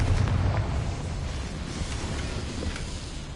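A Confringo fire spell explodes in Hogwarts Legacy, making a loud, rumbling burst that rolls on as a sustained roar and slowly fades without a sharp end.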